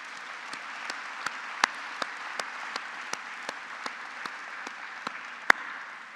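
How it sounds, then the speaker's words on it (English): Sparse applause at an awards gala, a few hands clapping in a slow, uneven rhythm with distinct individual claps over a soft background hum of the hall. "please join me in giving them a huge round of applause"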